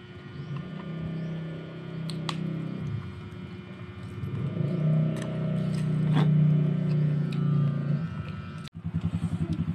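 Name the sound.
motor vehicle engine arriving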